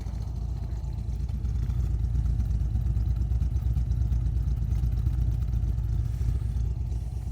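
A 1996 Dodge Viper GTS engine runs at a steady, low, fairly subdued rumble throughout, constant and alone with no talk.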